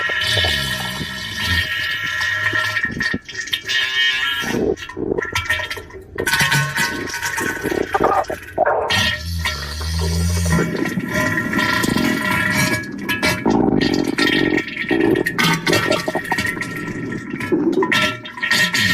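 A cartoonish diarrhea sound effect of gurgling, splattering and flushing water sounds runs continuously for about nineteen seconds, loud and close, with bubbling bursts and sputtering squirts.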